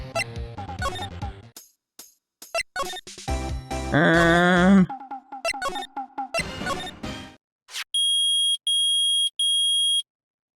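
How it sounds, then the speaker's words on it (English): Metal detector beeping in the Phoenix Wright: Ace Attorney video game, three loud, evenly spaced electronic beeps at the end after a stretch of blippy game dialogue sounds and music. "It's beeping! The metal detector's found something!"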